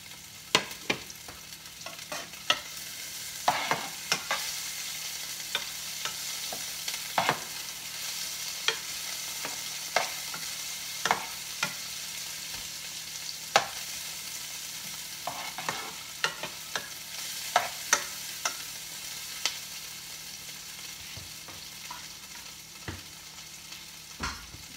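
Chopped garlic and ginger frying in a pan until golden brown, a steady hiss of hot oil with repeated scrapes and clinks of a utensil stirring, close up and without talking.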